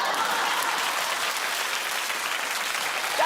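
A television talk show studio audience breaks into sustained applause, a dense, even wash of clapping that holds at a steady level from start to finish.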